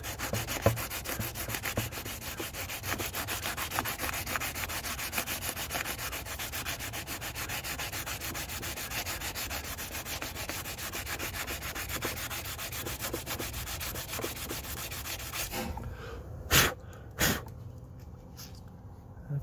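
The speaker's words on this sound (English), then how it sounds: "Okay, now let's sand it a little bit." Steady, continuous scratchy rubbing of sandpaper over a cracked plastic gas tank, sustained and close for most of the stretch, then stopping and leaving a few isolated handling knocks.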